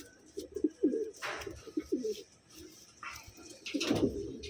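Wantai pigeons cooing in short throaty bursts close by, several rounds of low rolling coos with brief flapping or scuffling noises between them as the birds struggle while handled.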